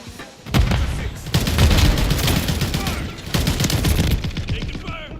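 Gunfire in a shooter video game: loud, close, rapid bursts of shots crackle almost nonstop, with a brief lull before another dense volley.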